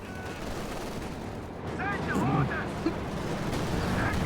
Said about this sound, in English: It's actually a Panzerschreck getting the mortar here.